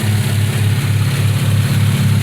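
A 2001 Hyundai Tiburon engine fitted with an OBX exhaust holds a steady, loud, deep idle hum, with a slight rhythmic pulse and no voices.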